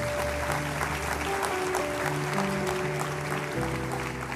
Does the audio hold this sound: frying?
no